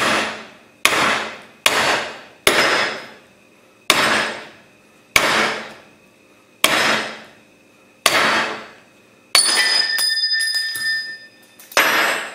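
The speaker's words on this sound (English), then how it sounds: "smack the race down, let that come out nice and easy" Heavy hammer blows drive a bearing race out of a 14 bolt axle, metal ringing on metal. About eight loud, separate strikes land at uneven spacing, each one ringing out, followed by a stretch of scraping and clattering.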